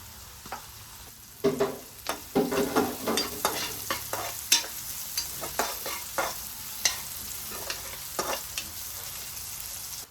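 Sliced onions roasting to brown in a pan, with a steady soft sizzle and repeated scraping stirs from a spatula, close and clear, without talk.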